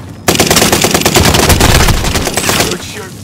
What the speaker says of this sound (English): See the hostile fire.